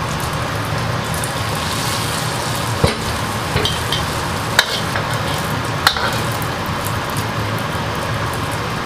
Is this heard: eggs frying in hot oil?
yes